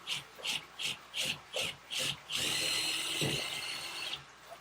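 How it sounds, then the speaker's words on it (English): A power drill with a 13/64 inch bit bores holes, first as six short evenly spaced bursts, then one longer continuous run of whining and grinding, close and clear. "we're gonna get some holes drilled"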